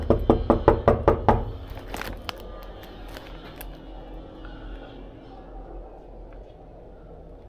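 A rapid burst of about ten firm knocks on a door, close and loud, followed by a few scattered taps and quiet room sounds.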